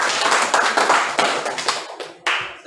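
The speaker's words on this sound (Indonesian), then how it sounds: "Tepuk tangan untuk kelompok 1." Classroom audience clapping for a presenting student group, a short burst of close, uneven hand claps that thins out and stops, with a brief final flurry.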